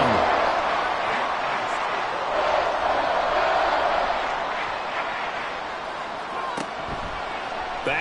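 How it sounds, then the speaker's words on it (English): A large football stadium crowd roars in a steady, loud wash of cheering and noise during a pass play on third down, sustained throughout with a sharp clap or slam near the end. "This crowd is making an impact right now."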